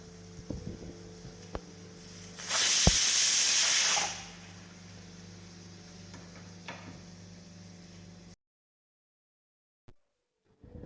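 A pressure cooker with pasta inside lets out a loud burst of hissing steam lasting about a second and a half, set against a steady low kitchen hum and a few light clicks, before everything cuts to near silence.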